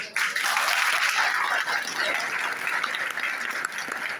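Dense audience applause fills a hall at a literary gathering in Lahore, steady and loud throughout with no pause.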